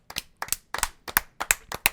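One or two people on a podcast clap in a short burst. There are about seven distinct paired claps at a steady rhythm, close and crisp, with no crowd.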